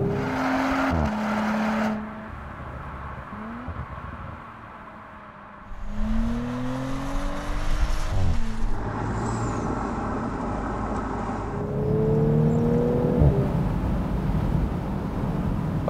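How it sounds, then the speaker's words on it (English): Audi S5 Cabriolet with its V6 engine driving, the engine note rising and falling through several gear changes, with rumbling road noise and shifting pitch sweeps, heard without any voices. "you've got the great sound here in the S5"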